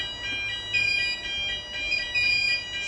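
Repeating electronic smoke alarm sounding during fire alarm system testing, a shrill high-pitched tone pulsing in regular bursts about every half second, loud and steady with no talk.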